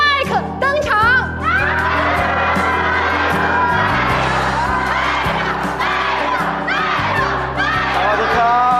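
A loud crowd at a fan signing event screams and cheers as a pop singer comes on stage, a dense, sustained roar of excited shouts over a pulsing musical beat.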